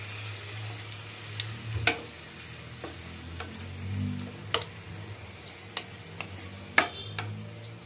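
Mushrooms and chicken sizzle softly in a pan at low volume, with a spoon scraping and tapping against the pan now and then during stirring.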